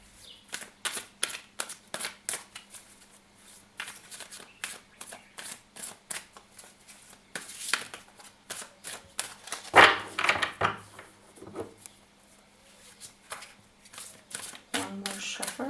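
A tarot card deck is shuffled by hand in quick, crisp riffles and taps, the rapid card flutter repeating throughout, close and clear with a voice talking now and then.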